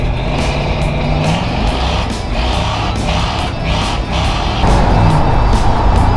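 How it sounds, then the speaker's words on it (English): An old police car on a test drive around a race track, its engine roaring loud and close with rising and falling revs throughout. "test drive time."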